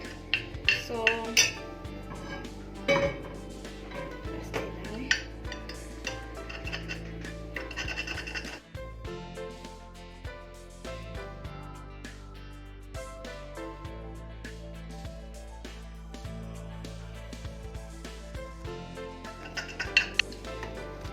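French toast egg mixture whisked thoroughly in a bowl, with continuous close scraping and clinking of a utensil against the bowl and occasional louder knocks.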